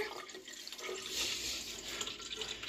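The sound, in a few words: child pouring water into a cup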